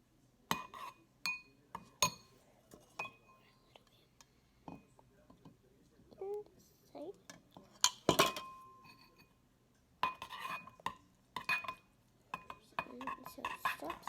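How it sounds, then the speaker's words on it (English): Slime being mixed in a bowl, with repeated clinks and scrapes of a utensil against the dish, close and irregular, while soft whispered talk runs underneath. "So we're just gonna mix it."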